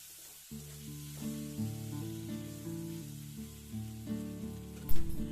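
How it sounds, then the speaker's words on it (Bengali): Spices and half a tablespoon of ginger-garlic paste fry in a pan while being stirred for a cabbage and prawn ghonto, a steady close sizzle under sustained tonal background music, with a brief louder clatter near the end. "খুব ভালোভাবে নাড়াচাড়া করে ভেজে নিতে হবে"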